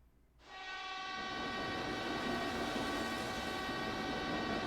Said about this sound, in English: then the train comes screaming into the station